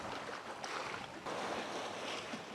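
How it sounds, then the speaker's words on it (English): Sailboat gliding across flat harbour water near Portsmouth in a light breeze, a steady broadband wash of wind and gentle water noise filling the whole stretch with no voices. "Such a beautiful day for sailing, just flat water and enough breeze to sail, which is perfect"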